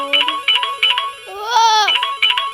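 A basic phone ringtone plays bright, electronic beeping tones in a repeating pattern, with a longer gliding, rising tone in the middle before the beeps return.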